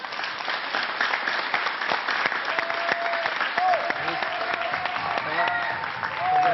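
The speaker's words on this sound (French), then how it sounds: "Jamal Debbouze, on l'applaudit encore." A television studio audience gives sustained applause for comedian Jamel Debbouze, a dense, steady wash of clapping heard up close, with a voice briefly cutting in partway through.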